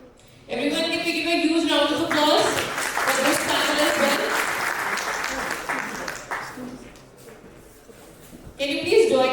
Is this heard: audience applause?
yes